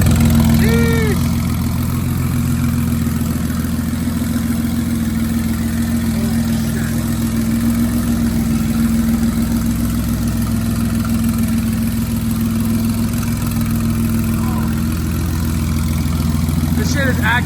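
A twin-turbo VHR-swapped VR30 Nissan 350Z with a 7-speed automatic idles in a shop, giving a loud, steady, low rumble throughout.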